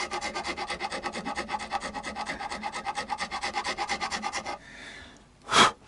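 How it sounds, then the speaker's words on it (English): Hand file rasping steadily across a guitar nut on an Ibanez PF100 Les Paul, a rapid even run of back-and-forth scraping strokes, close and fairly loud, ending in a brief pause and one sharper scrape. "Just need a careful hand on the file, make sure it doesn't run away from you."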